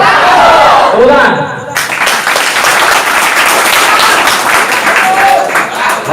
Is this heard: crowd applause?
yes